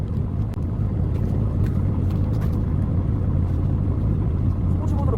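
A tuned Audi RS7 with an aftermarket exhaust idles steadily and close by, a deep continuous rumble with slight wind buffeting and no talk.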